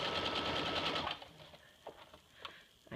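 A domestic sewing machine runs a rapid, even burst of stitching along the folded edge of a gathered waist apron, stops after about a second, and then gives way to faint handling clicks and soft pigeon-like cooing.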